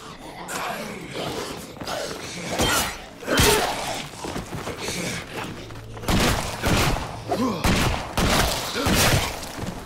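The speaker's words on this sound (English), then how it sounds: "now she uses a shotgun" Shotgun fire in State of Decay 2, a few heavy booming blasts with crashing, shattering impacts spread across the span, loud and close amid scuffling and gasping sounds.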